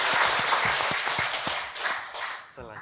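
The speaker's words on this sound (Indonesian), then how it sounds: "Oke, boleh tepuk tangan buat Mas Rifki" An audience applauds at a small business talk event, with a burst of loud clapping that tapers off within a few seconds, and a voice starts speaking near the end.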